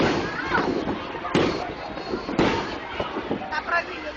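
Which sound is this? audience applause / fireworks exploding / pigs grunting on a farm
fireworks exploding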